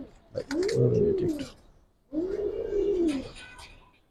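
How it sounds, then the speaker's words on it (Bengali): Giribaz pigeons at a breeding loft give two deep, drawn-out coos, each a rounded warbling call about a second long, close and clear with a short pause between them and faint light rustling around. "এক জোড়া ছাড়া ছাড়ি লাইনের জাগগল্লা কবুতর।"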